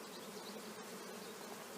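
Honey bees swarming around an open hive during a honey super removal, a steady close buzzing hum filling the whole stretch with no talking.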